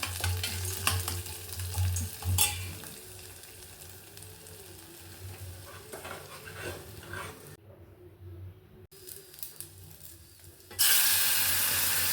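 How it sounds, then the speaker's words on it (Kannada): Tempering for an amaranth stem and field bean curry sizzles in hot oil, with stirring and a low frying hiss that ends in a sudden loud burst of sizzling. "ಅಷ್ಟೊತ್ತಿಗೆ ಒಗ್ಗರಣೆ ಹಾಕ್ಕೊಂಡಿದ್ದೀನಿ"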